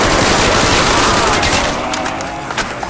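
Rapid gunfire in a zombies video game, Ascension map, dense bursts of shots filling the mix loudly, thinning toward the end with a few sharp pops.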